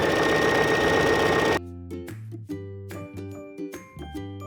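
Sewing machine stitching a seam on a bathing suit bottom, a brief burst of running stitches that stops, followed by a few ringing tonal notes and soft clicks, with no talk heard.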